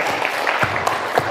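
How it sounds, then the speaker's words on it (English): Players at a mini basketball training session give a short round of applause, brief scattered claps with light chatter from the group. "Give him a clap."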